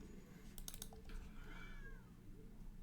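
Cat meow sound effect for cat tokens in the video game MTG Arena, a short faint rising and falling meow after a few quick clicks, over a low background hum.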